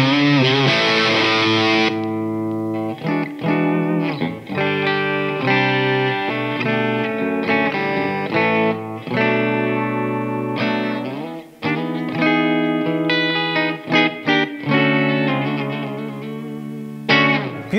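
An Epiphone Les Paul Custom electric guitar plays clean-toned chords and melodic runs, with ringing sustained notes that stop and start, loud and up close with no voices.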